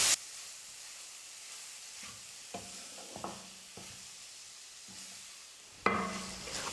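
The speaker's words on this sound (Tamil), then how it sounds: "கேரட் உருளைக்கிழங்கு சேர்த்து 1 நிமிஷம் நம்ம வதக்கி விட்டுக்கலாம்." Diced carrot and potato sauté in a pan for a snack recipe: a faint, steady sizzle with a few separate stirring scrapes and taps, then a louder burst of hiss near the end.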